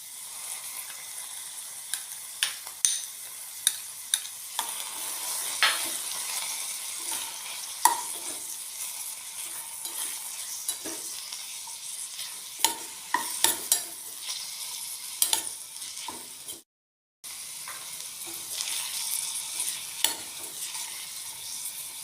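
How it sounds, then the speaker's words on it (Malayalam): Curry leaves and drumstick leaves sautéing in a pan for drumstick soup, a continuous close sizzle with scattered sharp crackles and spatula scrapes, a brief dropout near the end, no talking. "കറിവേപ്പിലയും മുരിങ്ങയിലൊക്കെ നന്നായിട്ട് വഴറ്റി കിട്ടിയിട്ടുണ്ട്"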